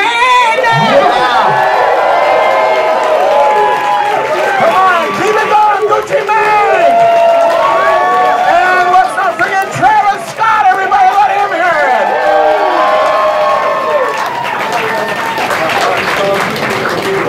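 At a live television concert performance, a large crowd cheers, whoops and applauds continuously, loud and close, while a voice talks over the noise.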